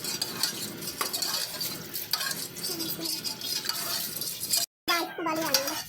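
Beef nihari masala stirred and fried in a pot, a steady close sizzle with spoon scraping and clinking against the pan throughout, broken by a brief silent gap near the end.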